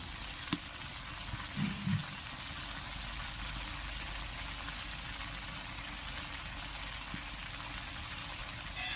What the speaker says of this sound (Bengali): বেশ ভালো করে কষে নেবো